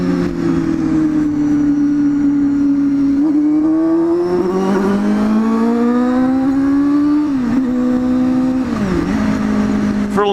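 A learner motorcycle ridden on Melbourne roads gives a continuous droning engine note that rises and falls in pitch through several gear changes, loud and close throughout.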